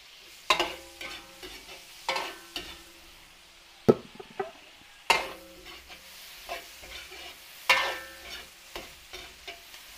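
Onions fry in a pan while a ladle scrapes and clanks against the metal in irregular bursts, close and clear over a faint sizzle, with no voices.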